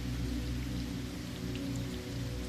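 Soft rain falls in a steady, even patter, a continuous close wash of drops with no voices over it.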